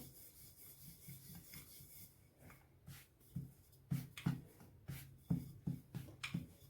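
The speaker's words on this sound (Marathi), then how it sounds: "पराठा छान असा लाटून घेऊया हलक्या हाताने" Pea-stuffed paratha dough is rolled out with a rolling pin, giving soft repeated rubbing and rolling strokes with light thumps, close and moderately quiet, and no talk.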